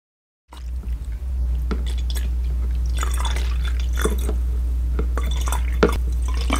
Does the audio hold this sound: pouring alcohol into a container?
yes